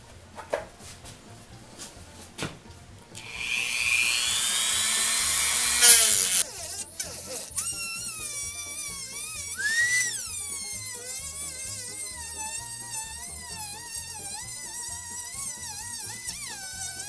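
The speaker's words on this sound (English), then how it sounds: "I think the grinding wheel is taking too much effort to get it down through the head of the screw." A small Dremel rotary tool spinning at high speed with a grinding wheel cuts into a screw head on an antique drilling machine, giving a loud, shrill whine that rises, sputters and settles into a steady wavering tone.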